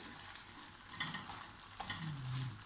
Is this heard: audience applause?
no